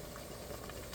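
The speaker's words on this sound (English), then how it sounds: "it's boiling, as you can see." Seasoned water for a shrimp boil bubbles steadily in a pot, a dense, even, close-up roiling churn that stays constant from start to finish with no voices.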